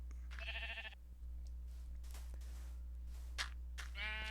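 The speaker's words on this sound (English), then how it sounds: "Oh my gosh, it's a yellow sheep" Sheep in the video game Minecraft bleat twice, a short wavering bleat near the start and another at the end, over a steady low background hum, with no talking.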